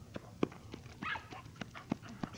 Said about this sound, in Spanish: Se están peleando ya los perros.